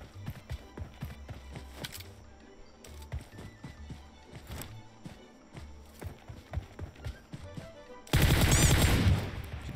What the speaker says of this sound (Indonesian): Gue baru ingat gue nembaknya pakai M4